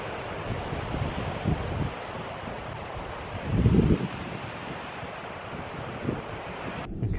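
Wind blows steadily across a beach campsite in winter conditions, buffeting the microphone with low gusts and a louder swell partway through, while surf-like noise fills the background and no one speaks.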